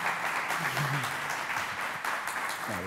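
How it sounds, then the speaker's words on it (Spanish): Audience applause for two guests at a Spanish-language talk event, a steady dense clapping that fills the whole moment, loud and sustained, with a voice briefly heard underneath. "por el otro lado, Diego Golombek, para quienes pido un fuertísimo aplauso."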